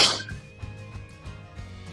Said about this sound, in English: I sneezed